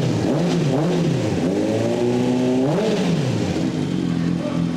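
A used sport motorcycle engine revs briefly a couple of times close by, the pitch rising and falling over a steady rumbling idle.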